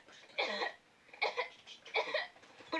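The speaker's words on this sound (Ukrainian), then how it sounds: "прийшла зі школи, почала кашляти" Four short, sharp coughs from a child spaced out over a few seconds, close and fairly loud, with quiet pauses between them.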